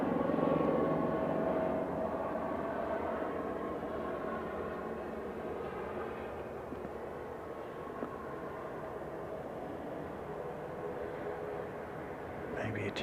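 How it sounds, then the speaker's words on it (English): A helicopter circling an airfield during plane spotting, a steady droning rotor and engine rumble that fades slightly as it passes, with people talking over it. "Oh, helicopter number 2. He's just done a lap around and come round behind us."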